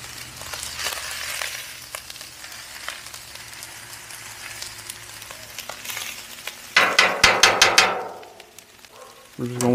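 Chicken fried rice sizzles on a Blackstone griddle, a close crackling hiss under faint scraping, then a run of rapid metallic spatula taps and scrapes toward the end, with no clear talking.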